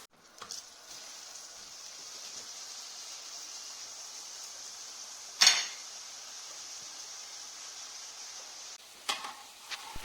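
Makki ki roti (maize flatbread) frying in oil on a griddle makes a soft, steady sizzling hiss throughout, broken by a couple of sharp utensil clinks.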